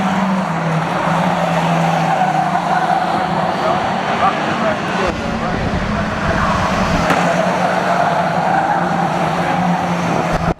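Race cars roar around the Cowdenbeath Racewall oval at night in a close race, engines droning steadily and loudly with tire noise throughout, a voice speaking faintly over the din.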